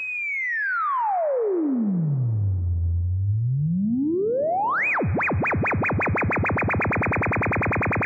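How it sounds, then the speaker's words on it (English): A Soundforce Dual LFO synthesizer module sweeps a pure sine tone down to a low hum, back up, then wobbles faster and faster in a rapid warbling oscillation. "I'll give you these nice sweeping sine wave here"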